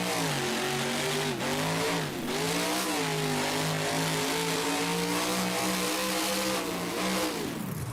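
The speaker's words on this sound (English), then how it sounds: "Alright, here's the Beam Monster truck." A monster truck engine in BeamNG revs loud and steady, its droning pitch rising and dipping over about eight seconds with brief drops between pulls, with no talking.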